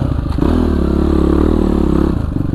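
A Kawasaki KLX 450 supermoto engine runs with a loud, steady low rumble, then abruptly cuts out as it stalls near the end, leaving quieter noise behind.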